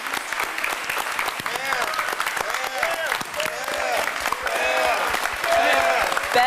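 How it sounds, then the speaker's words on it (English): Applause from a convention audience at a hacker conference's closing ceremony, sustained dense clapping with some cheers that swells louder toward the end, with voices heard over it. "just want everybody to get a round of applause for Pam."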